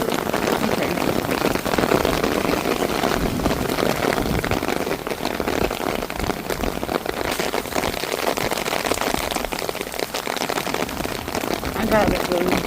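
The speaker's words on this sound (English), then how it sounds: "10 minutes of monsoon rain is like probably a couple hours" Heavy monsoon rain pours steadily and loudly, a dense continuous wash of drops on surfaces close by that never lets up, with a voice speaking faintly at times beneath it.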